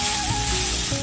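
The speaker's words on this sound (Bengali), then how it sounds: "লাউ ডাঁটাগুলো ভাজা ভাজা করে নিয়েছি" Bottle gourd stems fry in a pan with a steady, close sizzle that ends in a short clatter.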